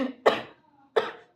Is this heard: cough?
yes